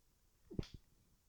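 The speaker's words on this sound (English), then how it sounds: "I was literally sneezing when you asked that." A single sharp sneeze from a person, a quick inhale-burst followed by a smaller second burst, close and moderately loud against a quiet room.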